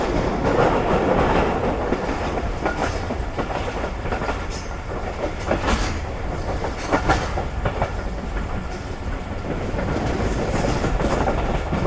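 Rehman Baba Express train running steadily on the track, a continuous loud rumble with rhythmic clickety-clack of wheels over rail joints and occasional metallic squeals, heard from aboard the moving train.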